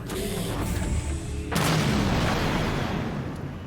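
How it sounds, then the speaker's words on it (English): A synthetic whooshing blast from a plasma cannon in Halo 5 erupts midway, a heavy low boom that rolls and rumbles out over the following seconds, following a quieter hum. "Again, standard plasma cannon."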